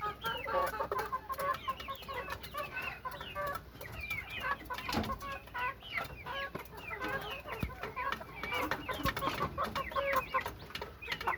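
White rooster chickens clucking and calling nearby in a dim coop, busy overlapping clucks with occasional louder squawks and no talking.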